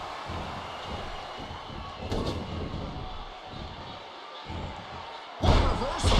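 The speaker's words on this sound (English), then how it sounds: "A stiff shot with the elbow." A heavy slam thuds in the WWE 2K15 wrestling game, one sharp loud impact near the end after a smaller thump, over a busy arena crowd din with commentary.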